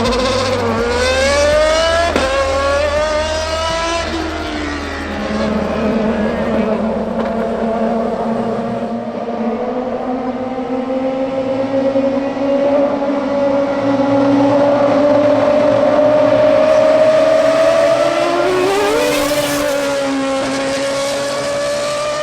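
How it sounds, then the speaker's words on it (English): A Red Bull Formula 1 car drives through Cape Town streets and passes under the Civic Centre, its high-pitched engine whining loud and close, rising and falling through gear changes, with a sharp rev surge near the end. "The Red Bull F1 car cruising under the iconic Cape Town Civic Centre."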